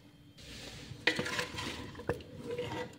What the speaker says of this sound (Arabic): درك نحطو يتقلى ونرجع لكم